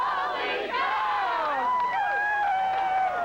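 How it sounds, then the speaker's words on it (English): A crowd at Harry Caray's restaurant shouts and cheers together in a sustained, loud roar of many overlapping voices. "Harry, I hope you can hear the crowd here at your establishment"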